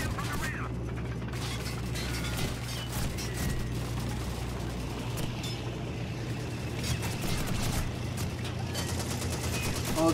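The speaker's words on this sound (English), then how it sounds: "Oh, it's a tank mission." A tank mission in Call of Duty 2 brings a constant low engine rumble with clanking tread mechanics and scattered bursts of distant gunfire, while voices speak over it.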